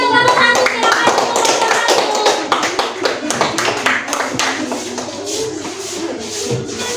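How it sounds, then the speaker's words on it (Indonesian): A school class claps for the first student group, a fairly close burst of many hands that starts dense and loud, then breaks into individual claps and fades, with a few voices underneath. "Silakan tepuk tangan semuanya untuk kelompok 1"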